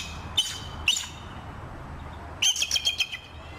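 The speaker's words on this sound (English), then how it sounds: "This is the sound that an eagle actually makes." A bald eagle gives a few thin, high chirping calls: two short separate notes, then a quick stuttering series of squeaky peeps, fairly faint over background hiss.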